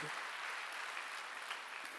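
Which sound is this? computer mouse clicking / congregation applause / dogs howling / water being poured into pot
congregation applause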